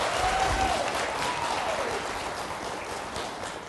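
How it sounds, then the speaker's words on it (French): A church congregation applauds together, a steady wash of clapping from many hands that stays loud and even throughout. "Il faut aller vous asseoir, on les applaudit ensemble."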